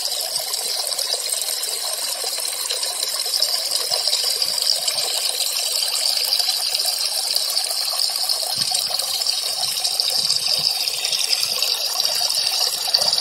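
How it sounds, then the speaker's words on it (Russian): Water from a homemade garden fountain trickling and splashing over ceramic tile and small stones, a steady, close, continuous babble with no voices. "Вот такой фонтан."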